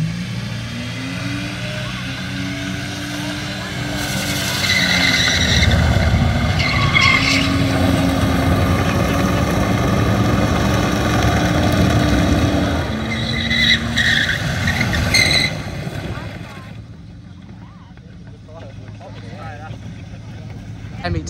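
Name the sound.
burnout car revving and skidding with tyre squeal on track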